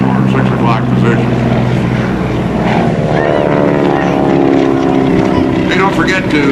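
GEICO Skytypers propeller planes roar overhead at the 2004 NAS Oceana Airshow, a loud continuous engine drone with shifting pitch as the aircraft maneuver, while an announcer talks over it.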